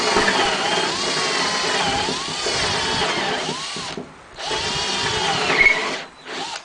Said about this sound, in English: Now this is a Harbor Freight drill.